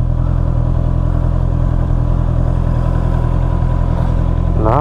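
A Honda motorcycle rides through Berlin city traffic, its mid-pitched engine holding a steady, loud, close-up thrum with constant wind and road noise and a brief rising whine near the end.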